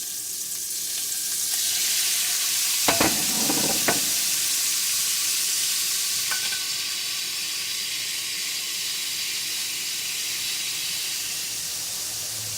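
Small scallops sizzle and hiss steadily in a hot pan, with a couple of brief clatters as they go in, the frying continuing evenly with no talk.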